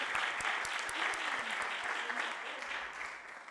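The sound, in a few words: audience applause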